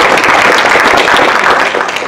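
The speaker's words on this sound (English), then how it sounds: "I almost earn an applause for that." A seminar audience applauds for about two seconds, a dense, steady wash of many hands clapping at close range that thins slightly at the end, with no talk over it.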